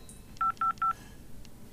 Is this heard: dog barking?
no